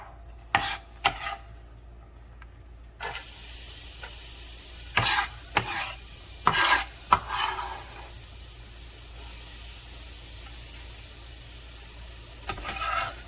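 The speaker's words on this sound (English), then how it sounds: "we're gonna go ahead and put the onions in there. Let them start sweating" Onions sweat in a pot, a quiet sizzle running beneath several sharp scraping stirs and clanks of a utensil against the pot, spaced irregularly across the stretch.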